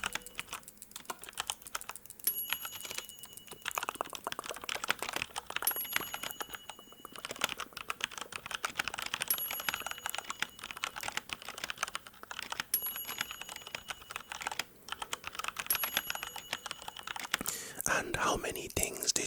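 Short, high electronic ding tones of a hearing test ring out seven times at even intervals, soft and close, over a faint steady whispery hiss.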